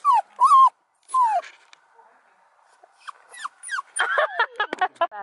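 Dogs whimper and yip up close in short, high, whining bursts separated by quiet gaps, ending in a flurry of squeaky cries.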